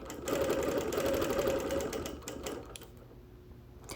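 A sewing machine quilts around a wool quilt, running in a fast, steady stitching buzz for about two seconds, then slowing and stopping, close and clear with no talk.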